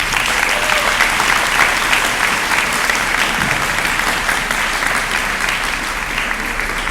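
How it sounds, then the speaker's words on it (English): Sustained audience applause at a middle school graduation ceremony, a loud dense wash of many hands clapping steadily without a break and no talking over it. "please give your parents a round of applause"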